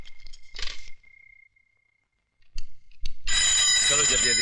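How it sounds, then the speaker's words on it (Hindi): A telephone rings in a house in bursts with short gaps between them, then a loud burst of other sound cuts over the end. "पिताजी जरा फोन उठाइए।"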